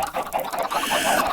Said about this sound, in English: You can see we have lots of chickens